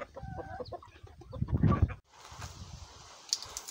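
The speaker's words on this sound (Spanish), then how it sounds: "Grábame esas gallinas y mira ahí cómo están." Hens kept at an outdoor cooking spot in Puerto Rico cluck and squawk nearby, busy overlapping calls for two seconds, then quieter wind and rustling.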